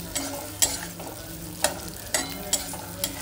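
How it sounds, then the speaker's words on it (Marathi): Eggplant frying in a pan in a home kitchen, a steady soft sizzle broken by several sharp scraping stirs of a utensil against the pan, with no talking. "वांगी छान फ्राय करून घ्यायची."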